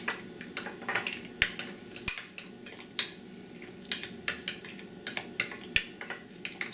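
A spoon clinks steadily against a bowl while mayonnaise sauce is mixed, with sharp irregular taps and scraping strokes and no talking.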